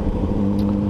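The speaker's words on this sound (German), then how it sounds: "Schönes Ding. Ein Porsche." A passing Porsche on a city street in Hamburg gives a loud, steady engine drone with a low growl for under a second, heard from close by without anyone speaking.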